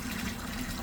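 A GROWNEER 550GPH submersible pump moves water hard, giving a steady, dense rushing and gurgling wash with a constant low hum underneath, close and continuous with no talking.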